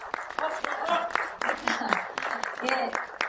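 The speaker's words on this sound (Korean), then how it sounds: "큰 박수 보내주십시오." Audience applause at a Korean press conference on North Korea's UN membership and the Pyeongchang Olympics: dense, continuous clapping from a seated crowd with a voice talking over it throughout.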